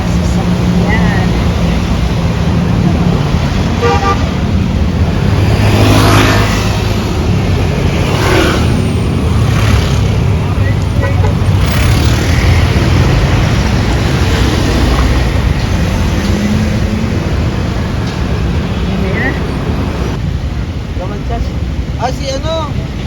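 Cars pass along a busy street in BGC, their engines swelling and fading in a constant rush under heavy wind buffeting on the microphone, while people chat nearby.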